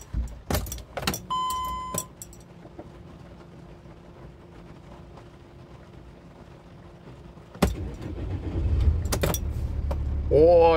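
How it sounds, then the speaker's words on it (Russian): A few clicks and a key jingle, a steady electrical hum, then the diesel engine of a VW Crafter van cranks and catches, settling into a loud, rough rumble. "Ну, запустим движок."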